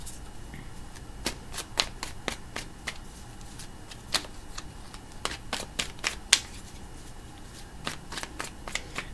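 Tarot cards are pulled from a deck and laid down one after another, making a steady run of quick, crisp flicks and light slaps. The sounds are close and sharp, with no speech.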